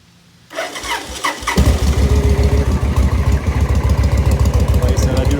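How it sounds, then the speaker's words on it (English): A 1999 Victory V92 motorcycle cranks briefly, then its big V-twin catches and settles into a loud, lumpy, pulsing idle close by. "So I'll go ahead and fire it up here."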